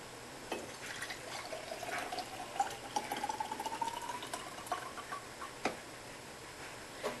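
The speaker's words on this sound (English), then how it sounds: "we can take our jar and we'll just pour this in." Infused chili oil is poured from a pan into a jar, making a quiet, continuous liquid trickle whose pitch slowly rises as the jar fills. Faint clicks and taps come before and after the pour.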